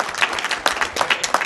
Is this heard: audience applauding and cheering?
yes